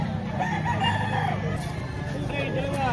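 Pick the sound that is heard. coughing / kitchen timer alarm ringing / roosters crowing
roosters crowing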